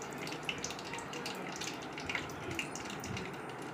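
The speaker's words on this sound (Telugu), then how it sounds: "ఆవాలు జీలకర్ర అయితే 2 స్పూన్స్ అయితే నేను వేసుకుంటున్నాను." About two spoons of mustard seeds and cumin hitting hot oil in a pan, a steady close sizzle scattered with small crackles and pops throughout.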